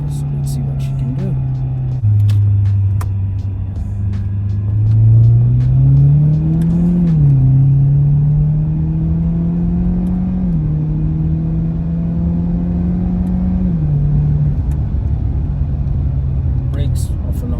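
Jaguar XE 25t sedan engine pulling hard on the road, with a steady interior drone whose pitch rises and settles through gear changes over continuous road rumble.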